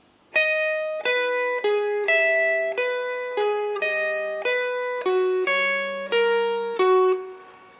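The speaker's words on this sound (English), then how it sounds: "we've got a fairly clean part that comes in through lead guitar" A clean electric guitar plays a melodic lead line: single sustained notes, each struck clearly in a steady, moderate rhythm with no other instruments.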